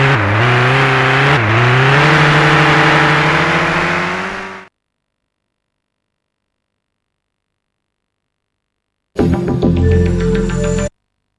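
Rally car engines in the PC racing game Rally Trophy, driven through the countryside: a loud, close engine roar revs up with a gear-shift dip early on, cuts to silence, then returns as a short, harsh burst of engine noise.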